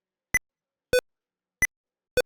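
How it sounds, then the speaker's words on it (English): Windows 11 caps lock key notification tones, four short clean electronic beeps spaced about 0.6 seconds apart, alternating between a higher and a lower pitch, each isolated against silence. "There is a sound notification the moment you have pressed it."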